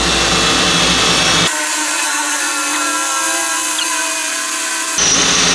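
A cordless drill with a hammer function whines loudly at high speed, with a rough hammering rattle at the start and end and a smoother spin in between.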